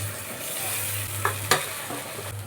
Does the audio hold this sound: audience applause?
no